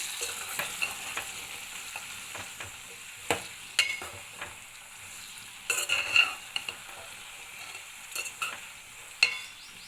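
Bitter gourd pieces being mixed and fried in a pan with turmeric, a soft background sizzle punctuated by irregular scraping and clattering stirs of a spoon against the pan.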